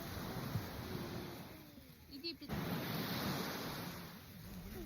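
Waves wash onto a quiet stretch of sea beach, a soft steady surf rumble with a gusty dip midway, heard faintly and continuously.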